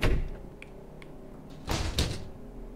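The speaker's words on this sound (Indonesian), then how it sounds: "The shower door was open." A shower door in the horror game Fears to Fathom thuds open with a soft bump and latch click, followed by a second louder knock and slide, close and isolated in a quiet room.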